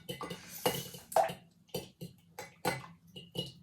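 Batter from a cake box mix is stirred by hand in a bowl, giving faint close scrapes and light clinks in an irregular rhythm of short strokes.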